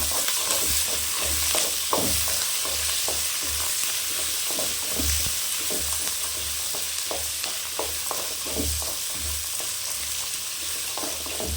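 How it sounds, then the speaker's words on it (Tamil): Carrots and sprouted peas sauté in a pan for semiya kichadi, giving a steady sizzle with repeated scraping clicks of a stirring spoon throughout, close and alone with no talking. "நல்லா வதங்கட்டும்"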